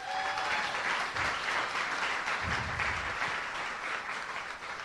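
An audience at a political luncheon breaks into sustained applause, many hands clapping steadily from start to finish, filling the room evenly at moderate volume.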